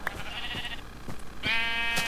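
A sheep in the video game Minecraft bleats twice, each bleat a wavering nasal cry, with a few soft clicks between the calls. The sound is fairly clear and close, and there is no talk.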